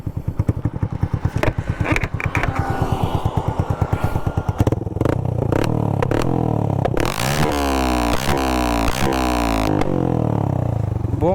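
A KTM Duke 250 BS6 motorcycle with an Akrapovic full-system exhaust idles with a rapid, lumpy popping beat, then the throttle is blipped into loud, rising revs that climb and fall several times, close and alone.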